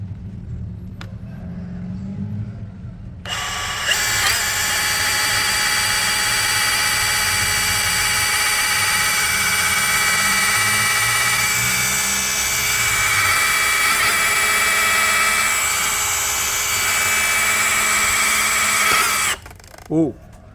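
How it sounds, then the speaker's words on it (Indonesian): A Bosch GBH187Li cordless brushless rotary hammer with a 12 mm bit bores through 18 cm of mahogany wood, giving a loud, steady whining drone for about sixteen seconds without a break, with a voice heard before it starts. "Kita akan mengebor kayu mahoni, ketebalannya 18 cm"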